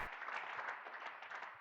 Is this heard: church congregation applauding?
yes